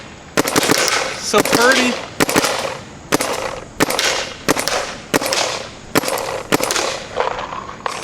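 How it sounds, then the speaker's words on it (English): An M170R paintball gun fired outdoors at a paintball field: about nine loud, sharp pops in short bursts, each ringing out briefly, with a person speaking briefly between shots. "once again, M170R shoots amazing"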